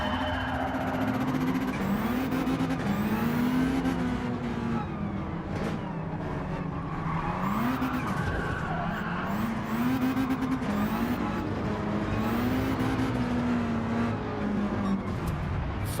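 A race car in Gran Turismo 7 lapping a rallycross track, its engine droning steadily and loud, rising and falling in pitch through repeated shifts and revs with no break.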